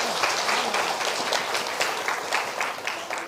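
A church congregation claps in thanks to the Lord, a fairly soft, steady patter of many hands that holds at an even level for a few seconds.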